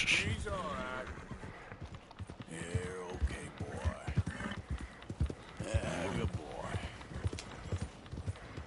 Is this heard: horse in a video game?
yes